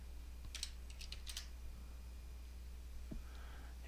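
Typing on a computer keyboard while entering expense planning data in TM1 software: a short burst of quick, light key clicks near the start, then a lone tap, over a steady low hum.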